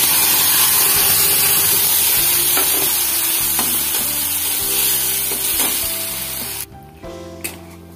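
Spice tempering sizzles loudly and steadily in a hot pan in a home kitchen, with stirring scrapes through it, then drops sharply near the end.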